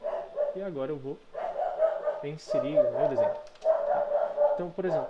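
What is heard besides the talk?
dog barking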